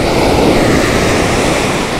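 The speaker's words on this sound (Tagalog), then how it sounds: "Medyo malabo yung dagat. Tapos may kaunting alon." Small waves break and wash on a murky seashore in Occidental Mindoro, making a loud, continuous surf roar with wind across the microphone throughout.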